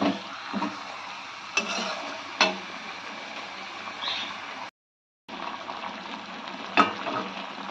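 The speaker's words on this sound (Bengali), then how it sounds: "ভালো করে মিশিয়ে মাংসটাকে কষিয়ে নিতে হবে।" Chicken sautés in a pan with Kashmiri chili while being mixed for Patiala chicken, a soft steady sizzle with occasional scraping stir clicks, quiet and close, with a brief dropout partway through.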